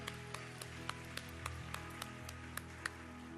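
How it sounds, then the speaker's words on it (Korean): A Korean church congregation claps in a slow, regular rhythm, crisp separate claps landing roughly every third of a second over a quiet room. "우리 하나님께 감사와 영광의 박수를 드리겠습니다."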